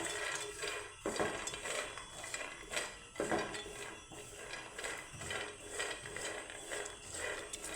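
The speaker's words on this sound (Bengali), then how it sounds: "বাদামটাকে আমি সুন্দর করে শুকনো খোলায় ভেজে নেব" Peanuts dry-roasting in a dry pan over low flame and being stirred, producing repeated scraping and rattling clatter of nuts and utensil against metal in uneven bursts, fairly close with no talk.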